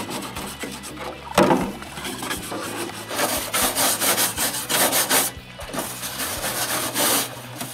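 A metal wire brush scrubs a concrete mixer with rapid, rasping back-and-forth strokes. They come in dense bursts with a sharp scrape near the start, close and fairly loud, with no talking.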